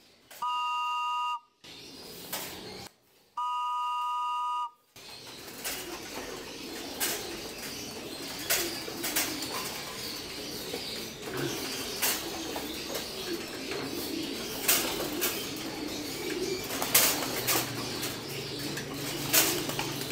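Pigeons pour back into a loft through opened grills, with a steady bed of soft cooing and scattered wing flaps throughout, preceded by a few brief electronic beeping tones at the start.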